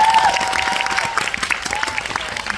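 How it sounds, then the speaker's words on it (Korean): Audience applause at a Korean film screening and Q&A for The Moon, a steady dense clapping throughout with faint overlapping voices. "박수 부탁드릴게요."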